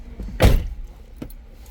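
A Mercedes-Benz W220 car door swings shut with one solid thump, followed by a fainter click about a second later.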